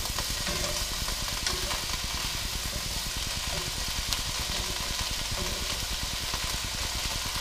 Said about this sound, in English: The onions are starting to cook now